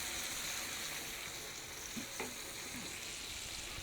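Thick-cut Hy-Vee Applewood bacon sizzles steadily on a hot Weber griddle, a dense continuous crackle with a few brief pops and scrapes, close and alone without talk.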